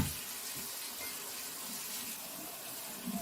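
Hot water pours steadily into an aluminum pan to make a water bath for a cinnamon roll cheesecake, a continuous soft splashing wash with no one speaking.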